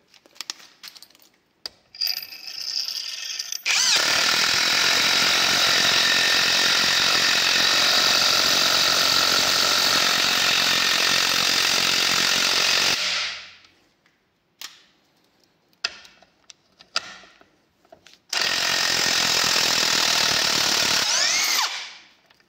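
A Parkside PPDSSA 20 Li A1 cordless impact driver drives an 8x120 screw into wood in two long bursts, a loud rattling whine for about nine seconds, then a pause with small clicks, then a shorter second burst.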